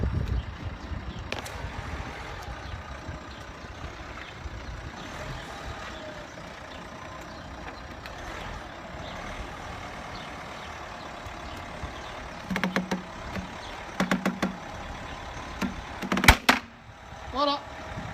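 A truck rolls over an unlined 125 mm drain pipe, with a steady low engine rumble throughout and a cluster of sharp clanks and knocks near the end as the wheels pass over, partly under faint voices.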